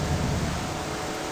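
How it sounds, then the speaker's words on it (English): Loud thunder rolls through a video game storm as a dense, steady rumble of broadband noise with no voices over it. "Thunder's a bit too loud."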